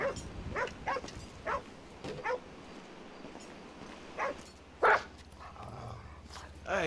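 Dog barks in Grand Theft Auto V come as several short separate yaps spread across the stretch, with one louder bark near the end, over low game ambience and some talk.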